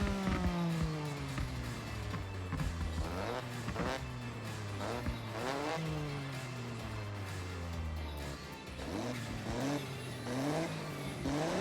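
A car in Forza Horizon, fitted with a sport exhaust, revs hard and climbs through the gears again and again. It is loud and close, with rising engine pitch, rasping exhaust and no talking over it.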